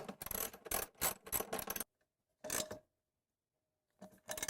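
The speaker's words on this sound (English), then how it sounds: "We'll use our 1/2-inch socket and ratchet to tighten those" A 1/2-inch socket and ratchet tighten the bolts holding a hose reel pedestal to its frame, giving bursts of rapid metallic ratchet clicks, loud and close, broken by pauses of silence and resuming at the end.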